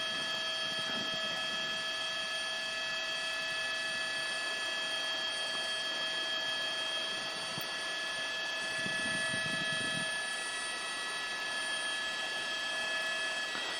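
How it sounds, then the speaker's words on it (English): Police air unit helicopter holding over a car pursuit in South Los Angeles, a steady droning rotor and engine hum with sustained tonal whine, constant and even throughout with no voices. "Air unit still overhead."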